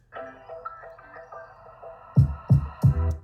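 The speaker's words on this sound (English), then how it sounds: "in this case, it kind of sounds like this airy swoosh" An airy swoosh in a music track rises over soft tonal notes, then three heavy booming hits land in quick succession, fairly loud and close.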